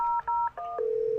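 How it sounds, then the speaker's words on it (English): Telephone keypad dialing on an office phone system, a quick run of distinct touch-tone beeps ending in a longer steady tone, clean and close with no talking. "When we call Chloe at 8-573-6001,"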